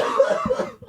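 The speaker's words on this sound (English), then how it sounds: "Why are we always coughing?" A single short, rough cough bursts out close to the microphone indoors, lasting under a second with no talk over it.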